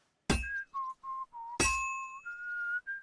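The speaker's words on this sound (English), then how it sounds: "The whistling throws me off since it's not like a rhythm game." A smith's melodic whistling at the forge in Kingdom Come: Deliverance II, with two sharp metallic hammer clinks each followed by a short run of clear whistled notes at shifting pitches, close and distinct.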